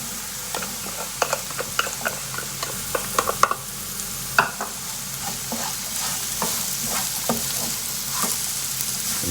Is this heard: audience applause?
no